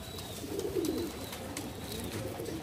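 Madrasi pigeons coo in low, soft, rolling phrases, a steady murmur close by with a fuller swell near the start and quieter cooing continuing after, no voices over it.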